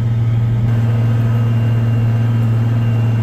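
A Case IH 9230 tractor doing fall tillage with a low 9-shank implement drones with a loud, steady diesel hum from start to finish, with no talking.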